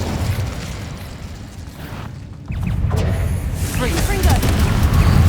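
The Incendio fire spell going off in Hogwarts Legacy: a voice calls out over a rumbling background, then a sudden whooshing burst of fire that roars on and grows louder to the end.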